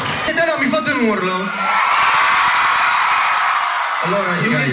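A concert crowd at the Vox club in Nonantola shouts and whoops, a loud sustained roar of many voices that follows a performer's amplified singing and calling out.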